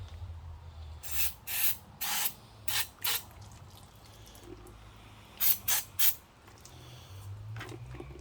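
Brake cleaner is sprayed onto transmission parts during a transmission service on a 1978 Plymouth Volare, in several short hissing blasts grouped in twos and threes, close by over a low steady background hum.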